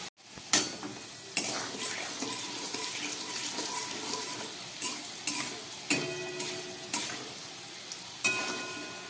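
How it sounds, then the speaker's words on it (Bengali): Potato pieces fry in hot oil with turmeric, a steady close sizzle broken by repeated scraping stirs of a spatula in the pan, with no talking. "আলুগুলোকে আমি ভালো করে এবার ভেজে নিচ্ছি।"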